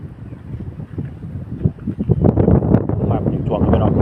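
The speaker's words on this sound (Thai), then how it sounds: "ลมกระโชกเป็นเดี๋ยวนี้" Strong gusting wind buffets the microphone at a seaside spot at Laem Chabang where large Thai kites are flown, a rough, swelling roar that builds louder toward the end with a voice under it.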